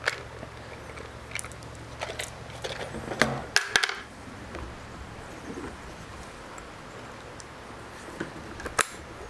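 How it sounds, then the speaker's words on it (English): A spent case is drawn from the action of a 109-year-old Stevens Marksman rifle, heard as sharp close clicks and metallic snaps clustered in a short burst, then a lone click later, over low background hiss. "it will pull the case out a little bit, and you have to pull it the rest of the way out"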